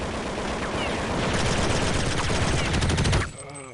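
Rapid gunfire from the shooter video game Counter-Strike, a dense stream of loud automatic shots that holds for about three seconds and then cuts off abruptly into quieter noise.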